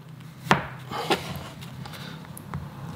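A knife cuts into a soft chocolate donut from a supermarket, giving a couple of sharp, close taps against the board with faint rustling between them.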